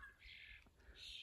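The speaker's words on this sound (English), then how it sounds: "there was a beautiful bird call there" A bird call in a forest, faint high chirping notes in two short bursts over quiet background, distant and soft.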